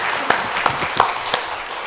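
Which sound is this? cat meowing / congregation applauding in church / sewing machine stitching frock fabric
congregation applauding in church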